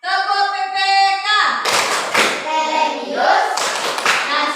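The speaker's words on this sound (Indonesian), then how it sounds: "tepuk PPK seperti biasa kita melaksanakan tepuk PPK" Schoolchildren perform a rhythmic PPK clapping routine in a classroom, a sung or chanted voice first, then loud, close clusters of hand claps and thumps in an uneven pattern with voices mixed in.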